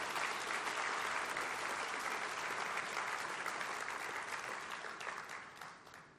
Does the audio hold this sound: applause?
yes